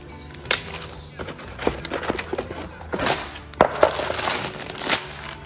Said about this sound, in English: Bunch of different screws.